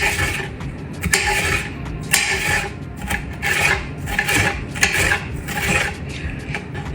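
A knife slices bell peppers and onions into strips on a cutting board, making repeated raspy cutting strokes in a steady rhythm, close and fairly loud, with no speech.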